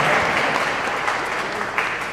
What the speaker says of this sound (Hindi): क्या बात है, जोरदार ताली, क्या बात है